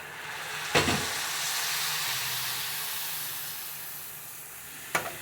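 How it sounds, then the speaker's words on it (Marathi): Washed rice sautéing with turmeric in a pressure cooker over a medium flame, giving a steady soft sizzle with two brief sharp clinks of stirring at the start and end; no talking. "तांदूळ पण थोडा परतून घेऊया"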